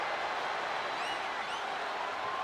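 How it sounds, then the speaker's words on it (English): A capacity arena crowd in the WWE 2K25 video game keeps up a steady, dense wash of cheering and applause throughout, with a few faint whistles rising above it and no commentary heard. "do you hear this capacity crowd?"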